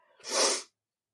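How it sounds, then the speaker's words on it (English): A single sharp sneeze bursts out close up, preceded by a faint intake of breath, then silence. "I need to sneeze"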